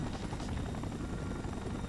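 A minigun-armed helicopter in the Spider-Man 3 video game hovers close by, its rotor producing a loud, continuous, throbbing drone with no talk.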